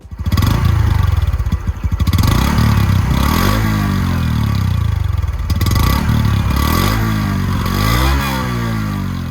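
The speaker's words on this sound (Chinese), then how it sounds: "大家也可以顺便听一下这台 CT125 它的排气声浪" A Honda CT125 Hunter Cub motorcycle idles and revs close by, its exhaust giving a steady, loud, thumping mid-pitched drone with several rising revs and small falls in pitch, and no talk over it.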